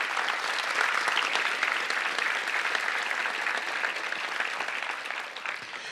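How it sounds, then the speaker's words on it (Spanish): Loud, dense applause from a church congregation during a Christian sermon fills the whole stretch, steady and close with no speech, tapering slightly near the end. "Dale un fuerte aplauso,"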